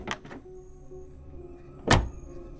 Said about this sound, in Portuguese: a abertura de uma porta de carro.